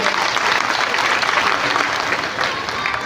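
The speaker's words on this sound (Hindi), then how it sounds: "आपके जरा जोरदार तालियों से उनका स्वागत करो।" A crowd at a Congress party office gathering applauds a welcomed guest, thick continuous clapping from many people throughout at steady loudness.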